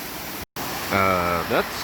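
A creek waterfall in the woods produces a constant, broad rushing roar that fills the background, with someone speaking over it partway through.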